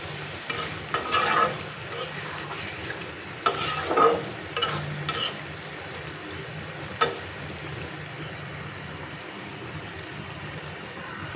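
Vegetable bhaji fries in oil in a pan, a soft continuous sizzle broken by several sharp bursts of stirring and scraping, heard close up with no talking.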